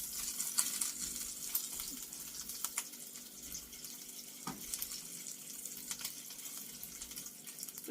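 Bacon fries in a pan with a soft, steady sizzle and scattered faint crackles and pops. It stays quiet and close, with no voices.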